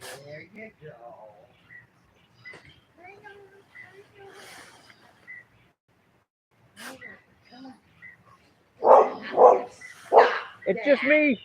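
A dog barks in several loud, close bursts near the end, after a stretch of a person talking to it, with quieter yips and vocal sounds mixed in earlier during a rainy, flooded day.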